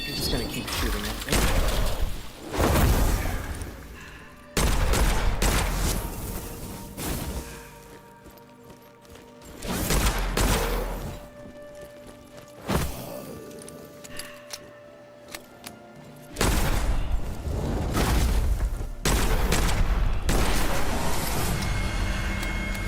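Gunfire from the game Witchfire rings out in repeated loud bursts separated by quieter gaps, close and sharp, with a voice speaking between the volleys.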